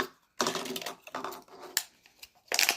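Several close, crunchy snips and rasping cuts arrive in irregular bursts separated by brief pauses, with no talking.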